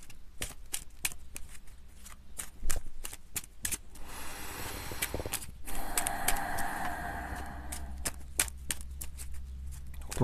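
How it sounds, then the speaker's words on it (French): Tarot cards being shuffled by hand in a quiet room: continuous riffling and flicking with dense rapid card slaps and a few louder snaps, close to the microphone and steady throughout, with no talking. "Et je vais battre pour un dernier tirage"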